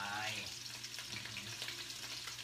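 Asparagus sizzles and crackles steadily as it is stir-fried in a hot pan, with soft scraping and stirring in a home kitchen.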